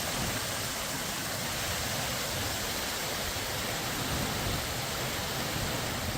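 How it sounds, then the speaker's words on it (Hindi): Heavy monsoon rain pours down in Kheda, Gujarat, a dense, continuous broadband hiss that stays steady and fairly loud for several seconds, with no voices. "भारी बारिश की वजह से खेड़ा में भी बाढ़ के हालात गंभीर हैं।"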